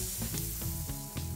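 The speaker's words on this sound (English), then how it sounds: "Listen to that sizzle." Rockfish, asparagus and lemon halves sizzle steadily on a hot grill, a continuous crackling hiss with soft bumps and scrapes as pieces are moved around.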